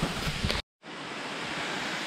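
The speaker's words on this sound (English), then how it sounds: "this is that same waterfall." A waterfall on the North Kaibab Trail in the Grand Canyon makes a steady, loud, broadband rush, cut off by a brief silent gap before the roar resumes.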